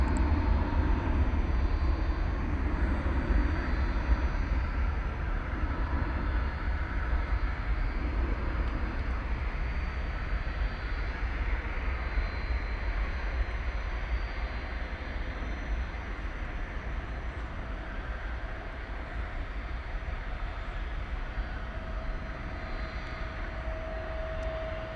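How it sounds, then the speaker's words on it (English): A UPS cargo plane backing out at DFW airport at night, a steady low engine rumble and whine droning on at a distance, fairly even throughout with no talk. "I think we've got another UPS flight backing out here."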